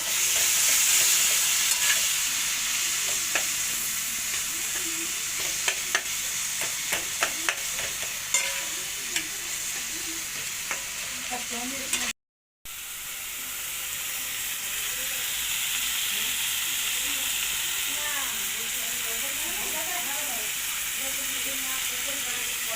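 Spice masala with ginger-garlic paste fries in a pan as it is stirred, a steady hiss and sizzle with scattered scraping ticks, cut by a brief gap midway before the sizzle resumes.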